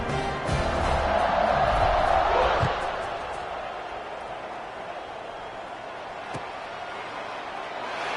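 A football stadium crowd roars before kickoff as the Ducks' opponents line up, a dense sustained cheer that swells early then settles into a steady broad hum, with a commentator talking over it.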